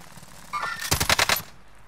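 A quick burst of automatic gunfire in Call of Duty: Modern Warfare, about half a dozen sharp, closely spaced shots fired in a rapid rhythm, fairly loud and alone, ending abruptly into quiet.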